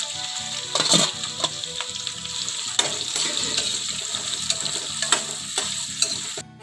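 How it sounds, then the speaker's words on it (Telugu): Green chillies fry in about four spoons of hot oil, giving a steady close sizzle with intermittent scraping and stirring clatter from a spoon against the pan. "ఆయిల్ వేడైంది, పచ్చిమిరపకాయలు వేసి వేయించుకుందామండి."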